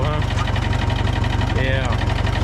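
A John Deere 3010 tractor engine chugs in first gear with a rapid, even diesel knock and heavy low thrum close by. A person talks briefly over it.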